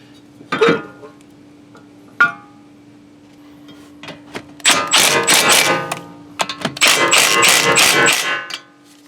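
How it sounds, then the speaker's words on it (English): A ratchet wrench tightens the fork bolt on a Honda Civic EG front coilover, with a couple of isolated clicks followed by two bursts of rapid, close ratcheting. "I'm going to tighten down the fork bolt here."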